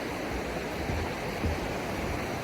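The Popo Agie River in Wyoming's Wind River Range flowing beneath a bridge, a steady broadband rush of moving water heard close and continuous, with no voices.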